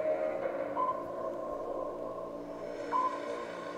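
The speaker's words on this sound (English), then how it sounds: "there is the sound of the submarine" A submarine effect from the Marvel Unlimited comic app plays two clear sonar pings about two seconds apart over a low, steady hum and faint background music.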